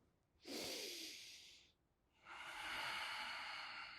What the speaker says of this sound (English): We go 1 more big breath now